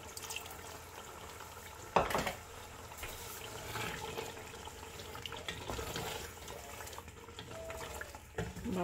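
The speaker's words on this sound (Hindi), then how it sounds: "मैंने ½ कप इसमें पानी शामिल कर दिया है।" Half a cup of water splashes and trickles into a pot of chicken biryani with a soft clank of cookware, fairly quiet, amid faint kitchen background noise.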